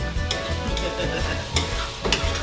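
Ground beef with onions and garlic frying in a pan for lasagna, a loud continuous sizzle broken by a few sharp spatula scrapes, close and busy, with no speech.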